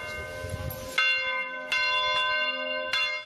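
Church bells of San Saturnino church in Santiago ringing during a magnitude 6.9 earthquake, several uneven clanging strikes with long ringing decay, with no voices.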